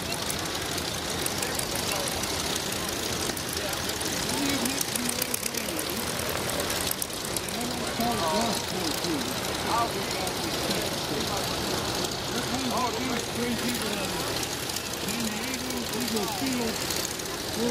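A big yellow PT primary trainer airplane runs its propeller engine at the 2014 Camarillo air show, a steady loud drone through the whole stretch with someone talking over it.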